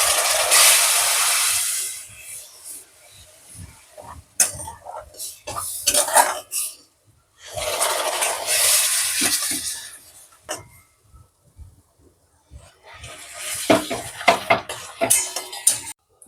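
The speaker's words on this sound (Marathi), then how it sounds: "याच्यात आपण आता गरम दूध ऍड करूया" Hot milk is poured into semolina roasted in ghee in a pan, giving loud hissing bursts. Spoon-on-pan scraping and clinking stir between the pours.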